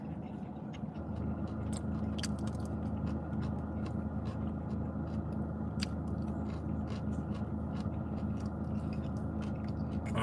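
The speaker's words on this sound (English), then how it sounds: "I don't know if y'all can hear the crunchiness of the broccoli" Crunchy broccoli being chewed close up, a steady noisy crunch running continuously for about ten seconds with brief sharper bites, no talking over it.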